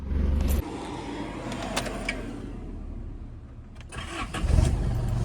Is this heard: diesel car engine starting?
yes